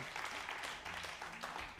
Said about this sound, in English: we accept applause